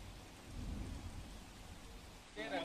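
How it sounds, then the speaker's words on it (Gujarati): Unseasonal early-morning rain falls over a city during a windy storm, a low, steady wash of rainfall with rumbling low noise, heard faintly and briefly. "શહેરમાં જે છે વહેલી સવારથી કમોસમી વરસાદ છે વરસી રહ્યો છે"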